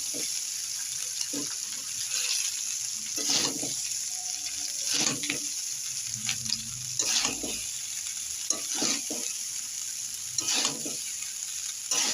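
Cooked rice stir-fried with fried winter vegetables in a pan, heard as repeated scraping stirs at a steady rhythm over a soft, constant sizzle, close up with no speech.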